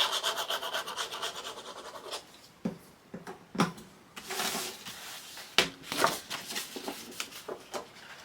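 Paper being burnished down onto a scrapbook album page, a series of irregular scraping and rubbing strokes, close and fairly quiet, with brief pauses between rubs.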